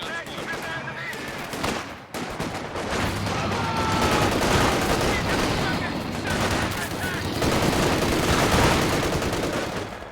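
Dense gunfire fills a video game battle, bursts of machine-gun and rifle shots overlapping at close to middle distance, with a brief pause before the firing builds again, and a voice talks over it.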